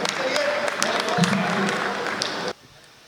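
Audience clapping at a Hindi kavi sammelan poetry gathering, a loud burst of applause with some crowd noise that cuts off abruptly near the end.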